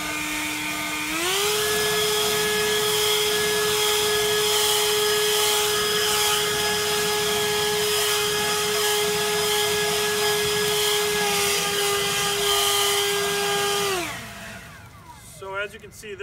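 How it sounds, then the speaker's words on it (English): A Worx cordless leaf blower, model WG507, runs on its lowest setting: a steady, loud whirring motor drone that spools up at the start, holds an even tone for about twelve seconds, then winds down and stops. "this is a pretty serious leaf blower, especially with cordless technology"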